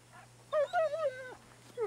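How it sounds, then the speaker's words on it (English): A bloodhound in the video game Red Dead Redemption 2 gives a short, close, high whimpering whine that bends downward over about a second, followed by the start of another whine. "Mangy bloodhound."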